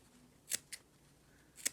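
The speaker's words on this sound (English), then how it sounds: "Let me snip." Sharp scissors snip fabric around a curved armhole, three crisp, close cuts, two in quick succession and a third after a pause, with no talking.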